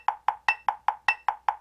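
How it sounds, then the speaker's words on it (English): A metronome ticks at 100 beats per minute with sharp, quick clicks subdivided into triplets, every third tick accented with a brighter, louder ping. "I'm going to set the metronome at 100"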